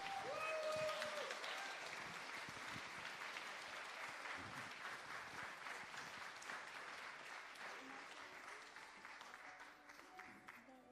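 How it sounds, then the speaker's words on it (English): Audience applause for award finalists at a dyslexia awards ceremony, steady sustained clapping from a crowd that starts loud and slowly tapers over about eleven seconds, with faint voices underneath. "I would like you all to give them a bit of a round of applause as well"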